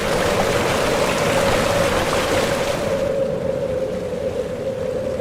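The Spiti river in Himachal Pradesh gurgles and rushes steadily, a broad close water wash with a persistent tone running through it, unbroken for the whole span.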